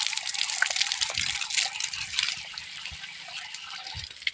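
Water gushing steadily from a farm water pump as hands and feet are washed in the field, a continuous close splashing flow with small irregular drips and spatters.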